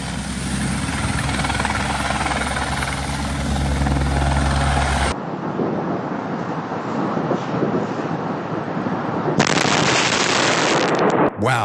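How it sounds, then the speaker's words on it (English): A helicopter thrashes loudly with a dense, rapid rotor chop during risky low maneuvers, then the scene cuts abruptly to quieter, grittier noise and another loud burst near the end. "The helicopter pilot truly risked it all, performing maneuvers that would normally cause loss of control and lead to a crash."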